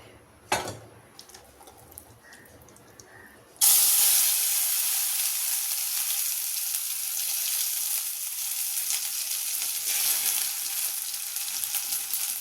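A paste of garlic, white sesame and dry chili is dropped into hot oil in a kadai. After a few quiet seconds with small knocks, a sudden loud sizzle erupts and keeps hissing steadily.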